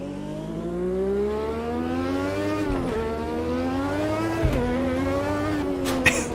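A race car in Automobilista 2 pulls out of the pit lane, its engine droning steadily and climbing in pitch, with two clear gear changes along the way. The car stays close and loud throughout, with no talking.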